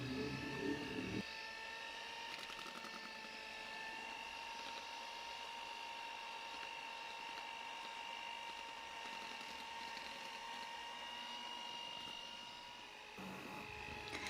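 An electric hand mixer beats eggs into buttery nastar cookie dough, a steady high whirring drone that runs evenly with no speech, briefly changing pitch near the start and end.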